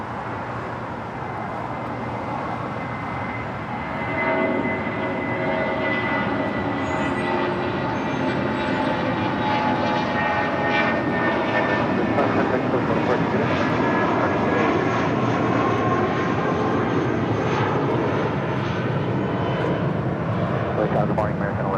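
An airliner takes off from runway 25 right at LAX, its jet engines roaring into a loud, sustained broadband rumble that swells after a few seconds and holds steady, with a radio voice talking faintly underneath.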